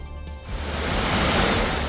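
Floodwater rushes after heavy rain in Belagavi district, a dense, loud roaring wash swelling from a lighter start into a constant close torrent, no voices.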